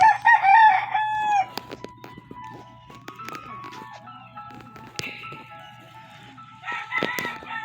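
In the Grow a Garden video game, a bird gives chirping calls and crowing-like cries, loud at the start and again near the end, with scattered game effects in between and a low steady hum underneath.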